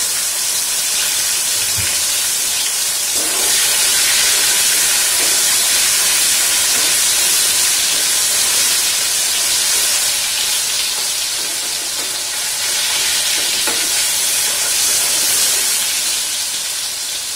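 Tomatoes frying in a hot pan with a loud, continuous sizzling hiss that stays close and steady throughout, with no talking.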